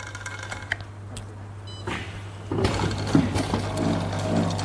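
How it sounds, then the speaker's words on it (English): A Hefestus cone rolling robot machine runs with mechanical whirring, ticking and clicking parts, quiet at first and then growing louder and busier partway through. "the machine will seek for cones and will turn until it will end."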